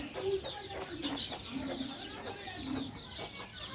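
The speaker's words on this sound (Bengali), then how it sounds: "মুরগির বাচ্চাগুলো মুরগির সাথে দিয়ে দিয়েছি" Hens clucking with their chicks nearby, with steady low clucks mixed with high, thin chick peeps over a continuous background hiss.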